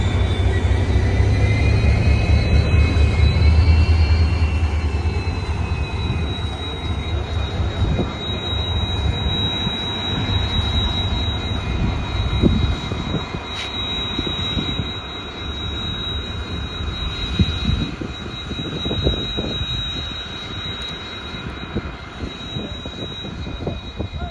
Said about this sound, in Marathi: गाडी अवश्य चाललेली आहे पाहू शकता आपली गाडी निघलेली आहे हाय स्पीड चाचणी आपली सुरुवात झालेली आहे